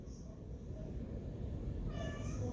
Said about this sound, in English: hey kitty. Y'all hear my kitty?